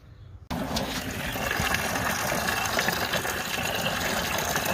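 Coolant from a 2005 Nissan Titan hose suddenly starts gushing into a bucket, then continues as a steady, loud rushing pour with no talk.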